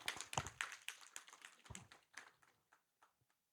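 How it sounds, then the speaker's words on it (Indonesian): Audience applause for the director at a provincial government dissemination seminar in Aceh: a brief burst of scattered hand claps, moderately quiet and thinning out to a few last claps within about three seconds. "Aplaus buat Pak Direktur."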